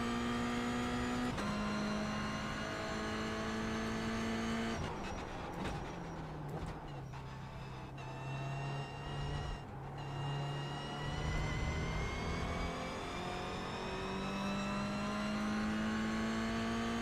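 A race car lapping the Portimao circuit in the iRacing sim, its engine drone continuous and loud, the pitch rising through the gears and then falling under braking, with no one speaking.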